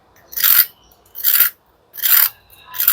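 Crunchy air-fried bread rolls stuffed with curd and vegetables being bitten and chewed up close, four crisp crackling crunches at a regular interval with silence between them and no talking.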